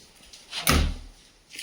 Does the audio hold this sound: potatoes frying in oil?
no